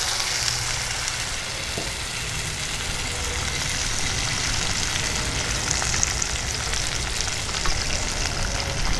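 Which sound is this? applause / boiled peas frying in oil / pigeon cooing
boiled peas frying in oil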